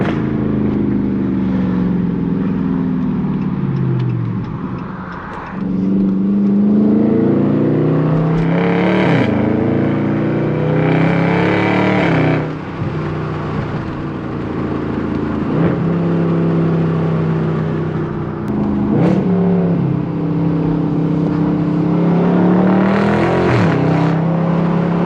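A Dodge Charger exhaust roars while driving through canyons, loud and close, with a sustained engine drone that rises and falls through repeated revs and shifts.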